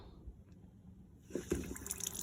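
City water pressure pushing into a camper's plumbing; after a quiet start, a sudden burst of splashing, gurgling flow begins and continues close by.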